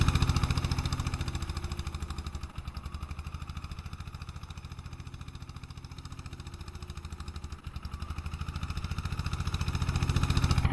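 A farm tractor engine runs steadily nearby, a loud rhythmic diesel chugging with constant clatter that dips slightly mid-way and rises again.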